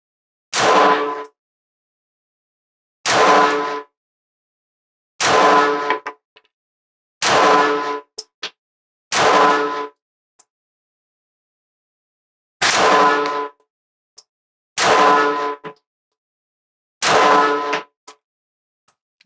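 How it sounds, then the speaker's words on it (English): Gunshots ring out from a Smith & Wesson EZ 9mm Performance Center pistol fired at targets on a shooting range, loud sharp reports in a slow, steady series of about eight shots with a few faint metallic clinks between them. "I will shoot center mass at our left-hand target"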